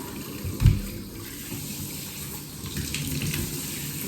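Tap water runs into a sink or tub to bathe a groodle, a steady hiss throughout with a brief louder splash near the start.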